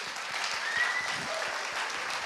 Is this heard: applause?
yes